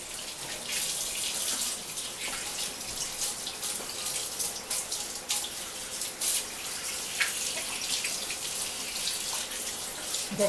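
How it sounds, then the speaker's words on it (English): Tap water runs steadily into a sink as hands are rinsed clean of sticky homemade biscuit dough, a continuous hiss and splash with no talking. "Just washing some of the stickiness off of my hand."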